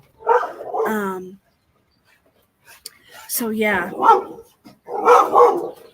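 A dog at home gives a few short, close barks in bursts separated by a pause, mixed with a person speaking softly nearby.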